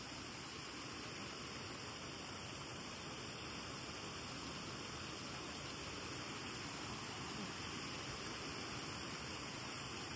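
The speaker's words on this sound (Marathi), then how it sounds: "पाण्याचा जास्त आवाज येतो खूप." Loud, rushing stream water pours steadily and without a break, a dense close-up wash of flowing water at night where crabs are being caught by torchlight. No voices are heard.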